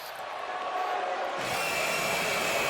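Wrestling crowd at a Second Wave show reacting to the team Bitches Brew: a steady wash of crowd noise that swells louder halfway through and holds as a broad, sustained roar.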